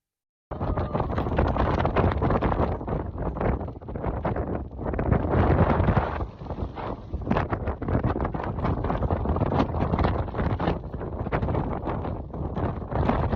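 Strong monsoon wind on the Mullayanagiri hilltop in Karnataka buffets the microphone in a loud, continuous roar that surges and dips in gusts throughout.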